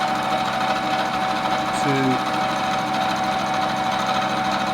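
A centre lathe makes a facing cut as a cutting tool is fed across the workpiece with the cross feed, a steady mechanical hum with a high whine running continuously under a voice.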